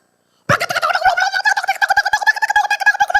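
Loud, continuous fowl squawking and gobbling in an agitated commotion, with overlapping calls starting abruptly and carrying on without pause, close to the listener and with no talk over it.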